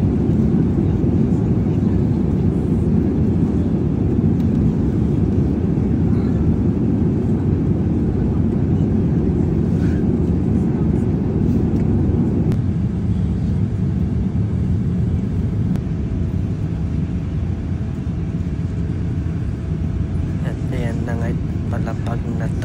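Steady loud low roar inside an airliner cabin as it descends to land at Guangzhou, China, after a long-haul flight, a constant engine and air rumble running throughout with a slight drop in level midway.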